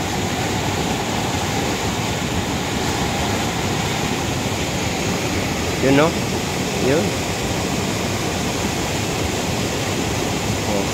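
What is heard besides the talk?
heavy rain and rushing water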